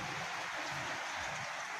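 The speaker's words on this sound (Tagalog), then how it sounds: "tulad niya ngayon, umuulan ngayon" Steady rain falls on a newly installed canopy, a continuous broadband patter and hiss that stays even and fairly close throughout, with no voices.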